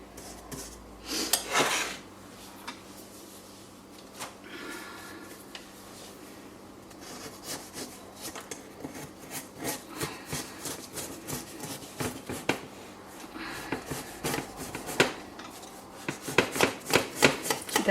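A knife trims the edges of a baked custard tart in a dark tin, scraping and clicking against the rim in a run of short strokes that grow quicker and louder toward the end, close and with no talk.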